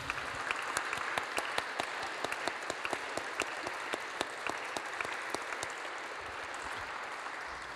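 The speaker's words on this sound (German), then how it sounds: "Sie dürfen gern klatschen." An audience applauds after a literary reading, many hands clapping in a steady, moderately distant patter with distinct sharper claps standing out, continuing evenly throughout.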